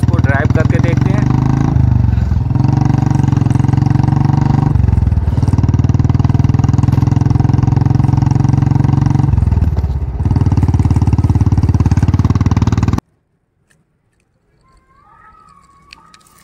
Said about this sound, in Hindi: बारी है स्काई ब्लू बुलेट मोटरसाइकिल की, तो चलो दोस्तों इसको ड्राइव करके देखते हैं।